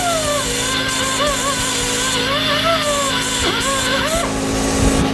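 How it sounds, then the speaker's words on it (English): A machine drones steadily up close like a running air compressor, loud and continuous, with wavering tones riding on top. "Sorry for the compressor noise"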